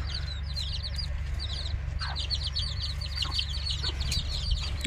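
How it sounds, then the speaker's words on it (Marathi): Hens and roosters cluck among taro plants near a house while small chicks peep in rapid, high chirps, with a steady low hum underneath. "इथे आळूमध्ये कोंबडे आहेत आणि कोंबडी आहे आणि कोंबडीची पिल्लं आहेत छोटी छोटी"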